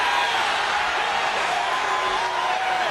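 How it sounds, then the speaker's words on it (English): A wrestling arena crowd cheering at a WWE Velocity match, a steady, loud wash of voices and whoops from the audience. "The crowd on its feet."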